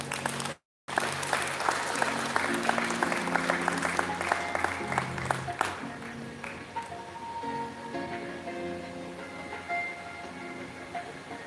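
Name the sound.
audience applause at a celebration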